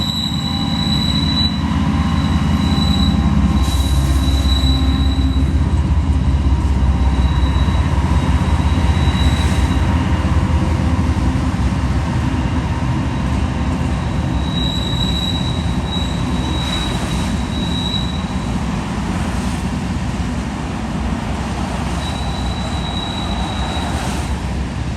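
Freight train led solo by a Monongahela-painted locomotive, hauling a string of refrigerated boxcars, rolls by close with a constant heavy rumble, rhythmic wheel clatter and recurring high-pitched flange squeals.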